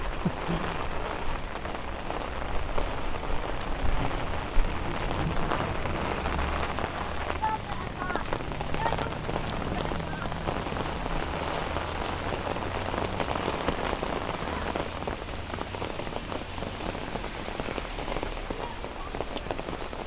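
Heavy rain from a severe thunderstorm in Bensonhurst, Brooklyn pours steadily and densely throughout, a close, constant wash of drops with no pauses and no voices.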